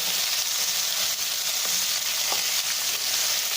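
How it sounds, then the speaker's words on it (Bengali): Raw mango pieces tossed into a hot frying spice tempering for a dal, then stirred; a steady, bright sizzle holds throughout with occasional faint utensil scrapes. "এবার এর মধ্যে আমি আমটা ছেড়ে দিয়ে নেড়ে ফেলব"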